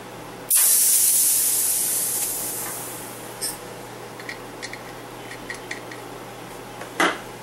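Pressurized gas hisses out loudly from a bottle regulator as it is released, a sudden close burst that fades over a couple of seconds, followed by a few small metallic clicks and a final short puff.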